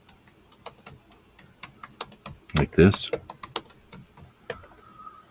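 Typing on a computer keyboard into a search engine, a quick irregular run of sharp clicks that bunch into a denser burst midway, with a brief spoken remark.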